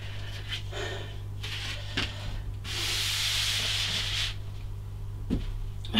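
Exercise sliders rubbing across a floor during arm circles in a plank, with soft scraping swishes in short bursts and one longer sustained rub in the middle, close over a low steady hum.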